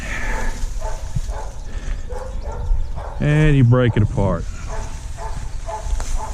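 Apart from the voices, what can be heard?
dog barking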